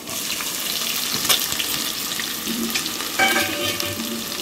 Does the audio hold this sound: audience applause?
no